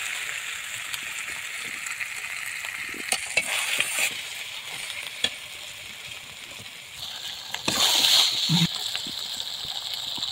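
Tomato, salt and turmeric masala being stirred in a frying pan for fried eggs, giving a steady low sizzle with scattered scraping clicks and a louder burst of frying near the end, no voices.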